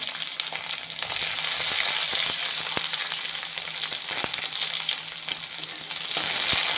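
Steady, close sizzling of onion and garlic frying in a hot pan, continuous crackle with occasional sharper pops and stirring clicks, no talking.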